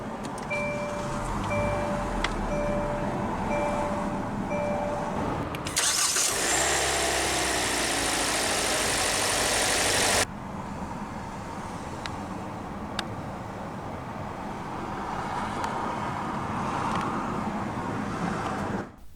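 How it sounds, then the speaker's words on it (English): A 2017 Hyundai Elantra Limited's engine, started by push button, cranks and catches with a brief roar, then settles into a quiet, steady idle, following a soft repeating chime. "let's go ahead and start the engine"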